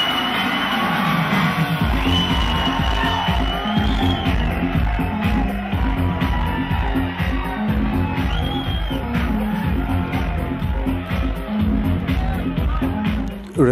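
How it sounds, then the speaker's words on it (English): A packed Sunday-night house music party, where the crowd shouts, whoops and cheers loudly and continuously over a steady, thumping club beat. "It's full of people, the crowd is amazing, everybody's dancing"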